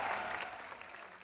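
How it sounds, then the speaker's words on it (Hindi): A studio audience at a televised family talent show claps for a child's parents. The short burst of dense applause is loud at first and thins out slightly over about a second. "जोरदार नहीं जबरदस्त वाली तालियां मम्मी पापा के लिए"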